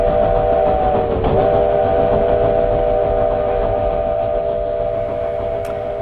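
A train whistle gives a long, loud, steady blast over the rumble of a moving train, a tone that runs through the whole stretch.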